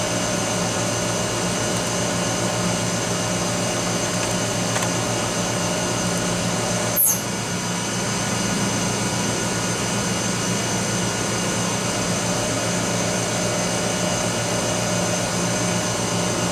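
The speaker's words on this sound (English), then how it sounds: "First we'll pump down the load lock." Vacuum pump drawing down the load lock on an Oxford Plasmalab 100 ICP etch system, a steady, loud mechanical whir and hum with one brief sharp click partway through.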